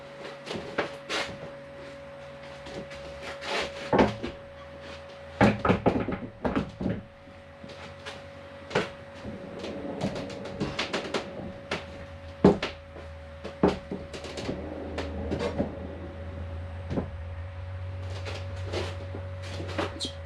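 A Signstek 5 ft sliding barn door at an off-grid cabin build rolls along its track, producing several rumbling slides and clunks with quieter stretches between, close by and without talk.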